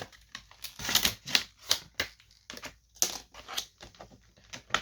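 Crinkly plastic knife packaging being handled up close, a run of sharp irregular crackles and rustles with short pauses between bursts.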